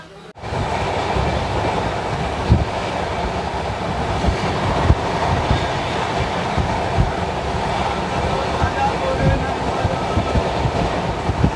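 The Coromandel Express with LHB coaches pulls out of a station, a steady loud rumble of rolling coaches and wheels on track that stays continuous throughout.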